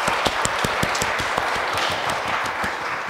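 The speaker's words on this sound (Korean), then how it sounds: "우리 박수로 한번." Congregation applauding during a Sunday church service at a Korean Presbyterian church in Paris, a steady run of close, dense hand claps lasting a few seconds with no talk.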